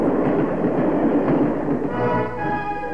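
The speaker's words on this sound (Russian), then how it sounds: "По линии прошел первый пассажирский поезд с героями народной стройки." A passenger train runs along a newly built railway line, its steady, loud rumble and wheel clatter filling the whole stretch with no talking.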